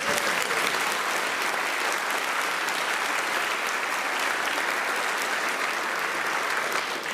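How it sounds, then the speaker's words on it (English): Another round of applause from a concert audience for a group of musicians who just finished a tune, a thick, steady wash of clapping that holds at full volume for over seven seconds. "You can give them another round of applause."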